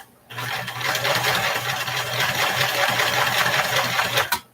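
A sewing machine stitches a heart-shaped pillow, running steadily and fairly close with a constant motor hum and rapid needle clatter for about four seconds before stopping.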